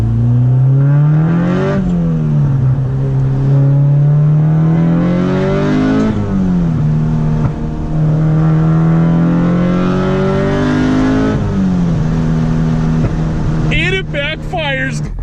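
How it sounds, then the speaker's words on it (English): A Honda engine revs hard and loud with VTEC engaging, climbing through gears with rising pitch sweeps and brief drops between shifts, ending with crackling backfire pops. "VTEC is so freaking loud, I can't even describe it"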